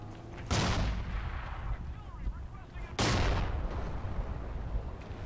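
A grenade goes off in Forgotten Hope 2 in a World War II battle near the Meuse River. Two sharp, booming blasts about two and a half seconds apart ring out over crackling battlefield noise.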